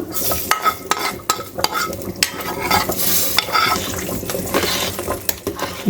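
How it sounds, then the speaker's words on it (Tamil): A tempering of pepper, cumin and curry leaves crackles and sizzles loudly as it is added to a dalcha curry, a close, continuous frying hiss broken by sharp pops and spatters. "இந்த மிளகு சீரகம் கருவேப்பிலையும் இதை எடுத்து நம்ம இந்த குழம்புல போட்டுக்கலாம்"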